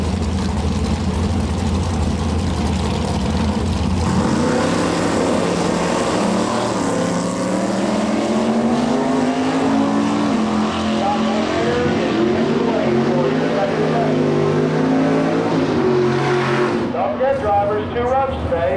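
Drag racing cars launch at Delmar US13 Dragway during a 1997 NHRA Winston divisional race, including a candy apple red Firebird, with loud sustained engine roar rising in pitch as the cars accelerate away, an announcer talking over it.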